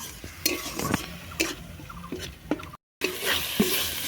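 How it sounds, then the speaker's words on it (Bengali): Spice masala of Kashmiri red chili, cumin and garam masala powders with a little water, stirred and sautéed in a wok for an egg vapa curry; repeated scraping strokes over a soft sizzle, close by, no talk. "মশলাটা দেখো খুব সুন্দরভাবে কষানো হয়ে গেছে, কড়ার গা থেকে ছেড়ে দিচ্ছে।"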